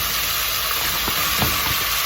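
Ground turkey and red onion fry in olive oil in a pan, giving a steady, close hiss and sizzle with a few faint soft clicks underneath, and no voices.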